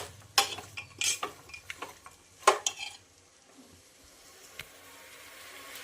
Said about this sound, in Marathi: आपले मसाले परतून घ्यायचे आहेत आपल्याला दोन ते तीन मिनटं